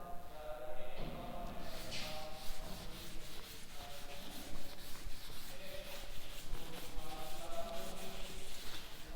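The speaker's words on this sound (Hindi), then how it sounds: "ऊपर का रब करती हूं।" Writing is rubbed off a board in a maths lesson, a continuous close scrubbing and brushing sound with uneven strokes throughout.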